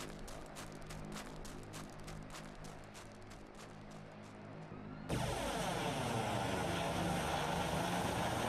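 A helicopter in a flight simulator game, flying a Welsh Air Ambulance, gives a steady rotor and engine drone with rhythmic blade chop, then abruptly switches to a louder, denser engine roar partway through.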